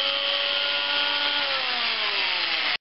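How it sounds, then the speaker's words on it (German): Power drill boring into Porsche-shaped Christmas cookies in a kitchen, a steady high whine held for nearly three seconds, slowly dropping in pitch before stopping abruptly. "also müssen die Plätzchen in der Küche gebohrt werden"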